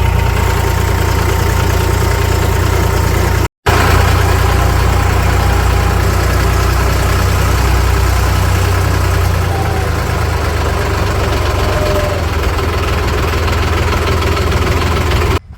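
A steady, rumbling tractor engine idles continuously with a low throb and mechanical knocking, briefly cutting out once early on, with no voices.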